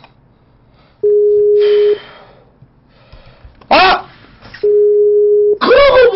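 Skype call ringing tone: two long, steady electronic tones, each about a second, with short breaths and a sharp exclamation from a nearby man between them.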